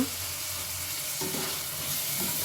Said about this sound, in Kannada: ಫ್ರೈ ಮಾಡ್ತಾನೆ ಇರಿ. ಚೆನ್ನಾಗಿ ಫ್ರೈ ಆಗ್ತೀವಿ.